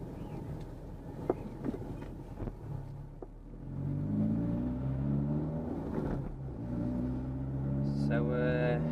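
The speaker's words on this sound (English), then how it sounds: "I'll let this lorry through." A lorry rumbles past nearby, its engine noise rising and sustained, with a rising whine near the end.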